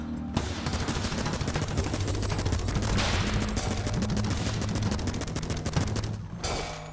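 Sniper and gun fire in the video game Ape Out, a sustained rapid barrage of loud shots that runs nearly unbroken for several seconds, with a few sharper cracks standing out near the end.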